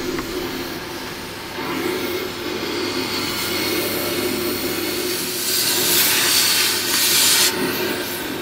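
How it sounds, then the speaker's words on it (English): An oxy-fuel cutting torch roars with a steady hiss while burning out a stuck bolt on a Panhard EBR 90 armoured car turret, the jet swelling louder and harsher near the end. "It's alright, we'll just oxy cut it out."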